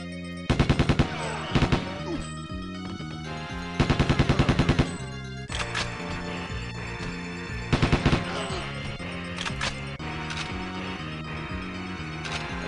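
Bursts of M14 rifle fire in the Goldfinger 64 mod of the GoldenEye 64 game, rapid loud volleys repeating every few seconds over a steady orchestral game score.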